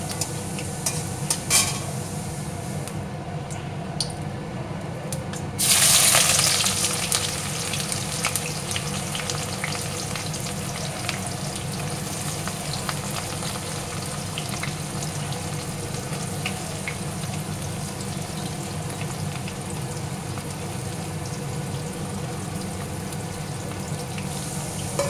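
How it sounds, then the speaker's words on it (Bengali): Onions fry in melted sugar in a pan with a constant loud sizzle and crackle throughout. A brief louder burst of hissing comes early, and scattered stirring clicks continue without speech. "লাল লাল করে ভেজে নেব"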